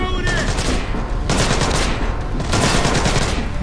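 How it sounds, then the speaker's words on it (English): Bursts of gunfire in the stealth action game Splinter Cell Blacklist, a dense sustained volley that drops briefly and then resumes, loud and close, with no voices over it. "I hear gunfire!"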